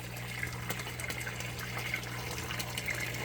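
An air stone bubbles in the sump of an indoor aquaponics system, a faint, continuous fizzing of water over a low steady pump hum with small irregular splashes.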